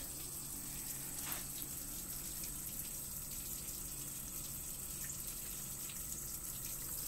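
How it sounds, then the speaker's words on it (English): OEM electric water pump emptying a bucket, a quiet, steady whooshing flow of water that stays even throughout, with no talking. "we're gonna see how long it takes for this single water pump to empty this whole bucket"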